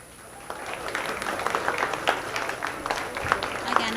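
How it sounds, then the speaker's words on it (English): Spectators at a junior fair dairy cattle show applaud the exhibitors, a crowd's clapping that builds and stays moderately loud, with individual sharp claps standing out. "Please give these exhibitors a big round of applause."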